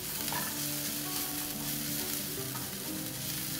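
Ginger garlic paste sizzles with onion in a hot pan, a steady loud crackle and hiss with a little stirring, close-up and with no voices.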